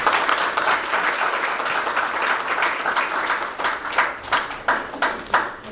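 An audience at an opening event of the Royal Borough of Kensington and Chelsea claps in a full burst that thins out into a few separate, sharper claps near the end.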